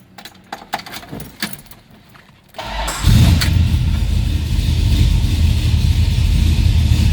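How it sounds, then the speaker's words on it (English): A 1967 Plymouth GTX with a 440 V8 and four-speed cranks briefly with some clicks and rattles, then fires up loudly into a deep, rumbling idle that holds steady and close, no talking over it. "Let's go ahead and fire it up so you can hear that 440."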